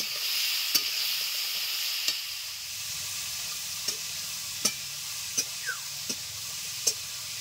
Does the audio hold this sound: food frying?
yes